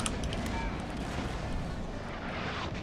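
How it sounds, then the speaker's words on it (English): Cannon fire booms in a Napoleon Total War battle, a dense rumbling barrage of distant shots overlapping into continuous thunder, with scattered sharper cracks. "they're just going to start nailing these cannons"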